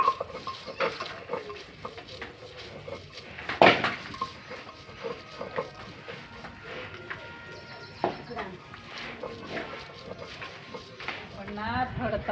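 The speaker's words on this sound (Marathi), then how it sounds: "त्या फोडणीला आलं लसणाची फोडणी दिली" Crushed ginger and garlic frying as a tempering, stirred with a utensil: irregular scraping and clattering against the pan, with one loud knock, while a person talks over it.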